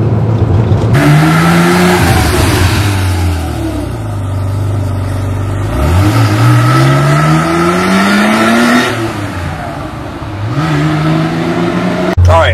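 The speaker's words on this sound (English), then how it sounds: "air induction airbox, so changed and modded, so that's why it does sound extra better." Car engine fitted with a modified air induction airbox revs up and down repeatedly, a loud close throaty drone rising and falling in pitch with each burst of throttle.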